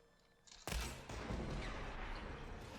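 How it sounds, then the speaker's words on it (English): A loud explosion in the video game Horizon Forbidden West bursts in suddenly, then rumbles on as a dense, sustained roar of debris and fire without any talk. "Nice explosion, that one."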